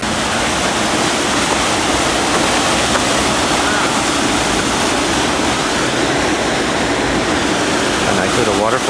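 A small waterfall heard from an Alaska cruise ship gives a steady, broadband rush of falling water, loud and constant throughout with no breaks.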